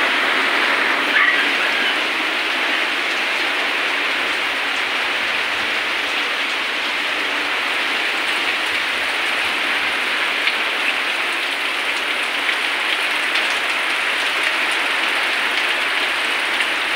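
Heavy rain pours steadily throughout during a storm, a dense, continuous hiss with no letup and no voices.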